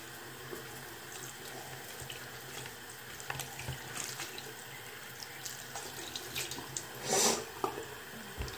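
Water runs from a tap into a sink during ostomy bag care, a steady, fairly quiet hiss with a brief louder splash near the end.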